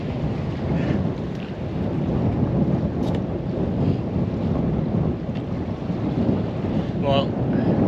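A strong gale roars across the sea around a fishing boat, a continuous loud rushing of wind buffeting the microphone, with brief faint voices underneath.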